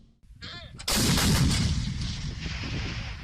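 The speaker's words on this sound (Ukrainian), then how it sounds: "Артилеристи оперативно-тактичного групування Південь взяли участь у триденних зборах з бойовою стрільбою" Artillery guns and mortars firing live rounds at a training range in the Kherson region: a loud, close blast lands about a second in and rolls out into a long, booming reverberation, with a short faint clank and whine just before it.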